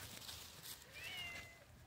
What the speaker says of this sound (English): Oh my lord, here comes the old Garfunkel cat